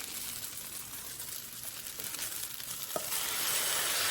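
Bok choy, edamame, carrots, peas and corn sizzle steadily in a hot pan, a dense close frying hiss that grows slightly louder toward the end.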